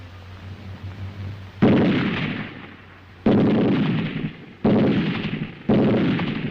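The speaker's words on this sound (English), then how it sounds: "The steady, sharp reports of rifle fire from both flanks and the bursts of covering fire from the machine guns." A WW2 German squad attack: four loud, heavy gunfire reports land at uneven intervals, each followed by a long rolling echo, with a quieter lull between them.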